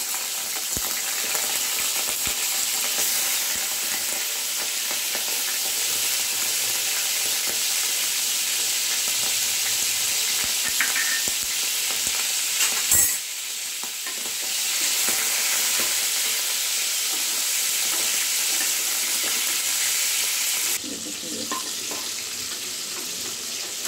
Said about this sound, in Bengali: প্রথমে আমি এই প্রনসগুলোকে নিয়ে নিচ্ছি, ভেজে নিচ্ছি।